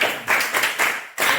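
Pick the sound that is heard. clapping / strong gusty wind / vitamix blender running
clapping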